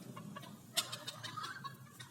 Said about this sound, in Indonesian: Ayam katek semua.